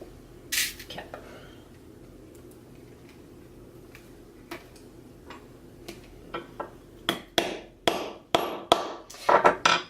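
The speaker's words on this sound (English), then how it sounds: "hammering rivets really only works when you're doing it against a flat surface" Sharp metallic taps ring out, sparse at first and then quickening into a burst of hammer strikes on metal rivets for a cosplay costume near the end.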